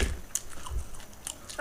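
Close, soft chewing and biting on food during an eating challenge of chowmein, chicken manchurian, panipuri and bread pakoda, with small crunches and mouth sounds repeating over a short moment.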